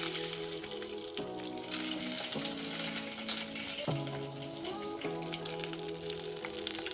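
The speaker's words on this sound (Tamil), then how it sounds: "இந்த கடுகு உளுந்து நல்லா பொன்னேரம் ஆயிடுச்சு வரமிளகா போட்டுக்கலாம்" Mustard seeds, urad dal and dried red chillies fry in hot oil as a tempering for mint chutney, giving a steady, close hiss of sizzling under soft background music with sustained tones.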